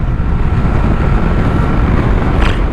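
A BMW R1300RS with a boxer twin engine, ridden on the road, gives a loud steady engine drone under heavy wind rush, continuous and close with no speech.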